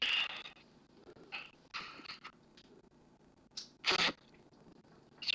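Someone sneezes close to a headset microphone, with a couple of smaller breathy bursts building up before one loud, sharp sneeze near the end, over faint background rustle.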